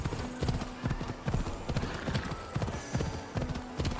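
Rhythmic clip-clop of a white horse galloping at a steady, fast pace in Assassin's Creed Odyssey, hoofbeats repeating about twice a second, close and loud over a faint musical backdrop.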